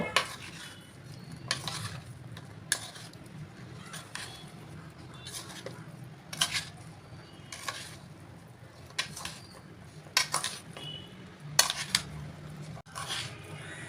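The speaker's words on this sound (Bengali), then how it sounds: "এইবার সমস্ত উপকরণগুলোকে খুব ভালো করে মিশিয়ে নেব" Idli cubes being tossed with vegetables and spices in a pan, with repeated sharp clinks and scrapes of a spoon against metal at an uneven rhythm over a faint background hiss, close and moderately quiet.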